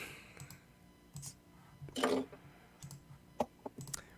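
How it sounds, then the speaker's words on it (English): A loud computer keyboard clicks in irregular bursts, sharp close keystrokes with brief pauses between clusters, heard alone without talk. "It's a loud keyboard."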